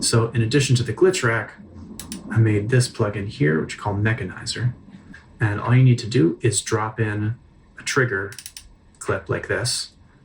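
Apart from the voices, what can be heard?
None of the usual background noises is heard.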